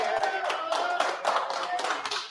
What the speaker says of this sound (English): You can clap now if you want to.